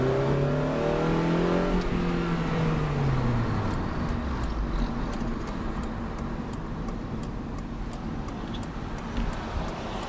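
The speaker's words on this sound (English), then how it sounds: "I'm actually going to leave my windows cracked open and my sunroof open this time just to see how bad the wind noise actually gets" Wind rushes steadily and loudly inside a moving Honda with VTEC while its windows are cracked and sunroof open, a broad roar with low engine and road rumble beneath, continuous throughout.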